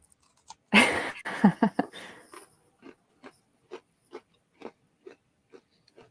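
Oreo cookies bitten with a sharp, close crunch, followed by a burst of crackling chews and then a slow, regular series of quieter chomping sounds roughly every half second.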